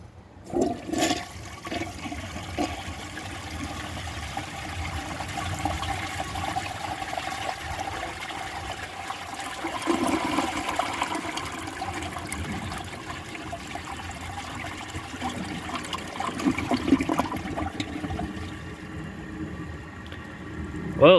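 A 1963 Chicago Potteries toilet flushes with a loud rushing gurgle of water, then settles into a long trickle as the tank refills, with a few knocks and a final surge near the end.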